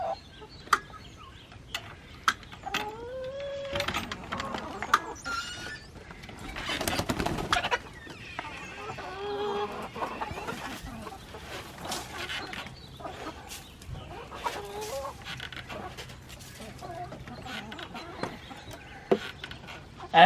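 Chickens cluck and call around a feed scoop in a backyard flock, with busy, overlapping bird noises and short bursts of activity running throughout at close range.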